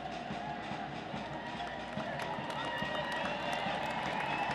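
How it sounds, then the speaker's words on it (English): Stadium crowd at an NWSL women's soccer match between NJ/NY Gotham FC and OL Reign applauds a departing player, a steady distant wash of clapping and cheering under a faint background voice. "Crowd letting Onomano know their appreciation for what she did tonight here in the game against OL Reign"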